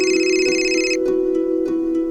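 A phone ringtone for an incoming call chimes loud and close, a sustained electronic melody repeating in short pulses with no talking over it.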